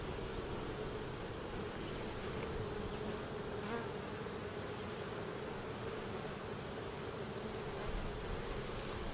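Honey bees buzz continuously and densely around an opened hive during a frame inspection, a close, steady drone with no voices.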